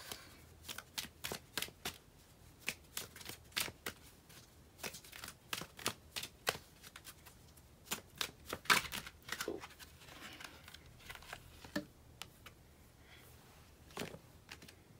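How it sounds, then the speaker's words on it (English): A Wisdom of the Oracle card deck being shuffled by hand, with repeated crisp riffles and flutters in irregular bursts, close and fairly quiet. "Pull 2 cards from the Wisdom of the Oracle deck."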